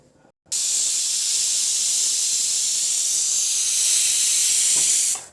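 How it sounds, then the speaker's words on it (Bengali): A pressure cooker of vegetables releases steam in a loud, continuous, close hiss that starts abruptly after a moment of quiet and runs for about five seconds before cutting off. "দুটো সিটি দিয়ে গ্যাসটা বের করে দেবো।"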